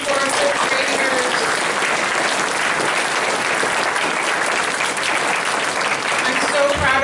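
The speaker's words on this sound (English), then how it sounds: "Can we get another round of applause for our fifth graders?" Sustained applause from an audience for fifth graders after a school play of Don Quixote, dense and steady clapping throughout with faint voices mixed in.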